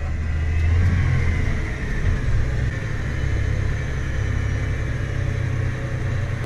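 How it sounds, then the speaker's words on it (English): Tractor engines running steadily with the PTO shaft engaged, a continuous loud low rumble and drone lasting throughout without speech, during a snowy harvest with grain bags. "I'm just gonna start up the PTO shaft and put it in neutral and let that thing ride all on its own."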